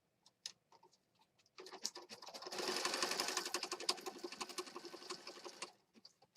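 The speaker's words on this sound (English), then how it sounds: "So let's go over here to the sewing machine." A sewing machine stitches paper pages for a mixed media junk journal, starting with a few scattered clicks and then settling into a steady whirring run of rapid needle taps before stopping.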